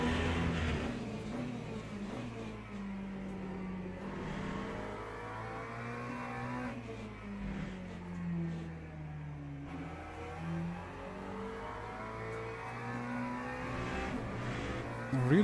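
A McLaren race car in a racing video game revs steadily with rising and falling engine pitch through gear changes, sustained and close throughout.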